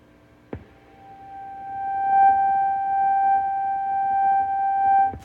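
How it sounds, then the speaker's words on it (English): A sustained tone from a Behringer Neutron synthesizer hums steadily while a grainy, rumbling glitch texture churns beneath it, framed by a click at each end. "you can hear this noisy kind of glitch stuff happening in the underneath the note"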